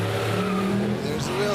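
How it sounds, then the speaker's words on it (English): Tires squeal from wheel spin on a 1972 big-block car with an L88 hood at a drag race on Woodward Avenue, a loud continuous engine roar and screech filling the brief moment under crowd and announcer talk. "There's the wheel spin."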